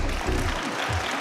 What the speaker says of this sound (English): They're clapping for you, sir, not us.